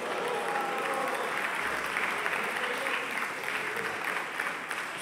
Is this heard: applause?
yes